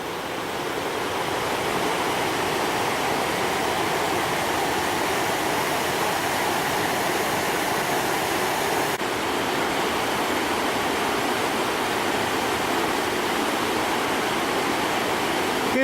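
The Rječina river rushing beneath a newly built bridge, a dense, constant roar of flowing water, close and loud without a break, no voices over it.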